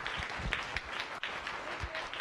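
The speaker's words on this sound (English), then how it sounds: "Let's give her a round of applause." A Science Cafe audience breaks into a dense wash of applause, many hands clapping at once at moderate volume, with faint voices mixed into the crowd noise.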